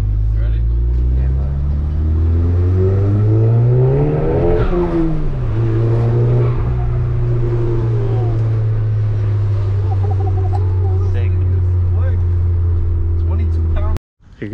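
Volkswagen GTI with a turbo accelerating hard, its engine note climbing steadily in pitch, easing briefly, then rising again, loud and close inside the car for the whole stretch before cutting off abruptly.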